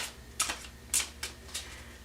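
Quiet riffling and soft snapping of playing cards being shuffled, a few light bursts in quick succession with no talking.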